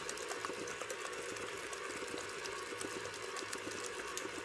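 A KitchenAid stand mixer with the paddle attachment runs on low, blending keto bagel dough made with a cheese mixture and eggs, in a continuous even whir with a soft rhythmic churn.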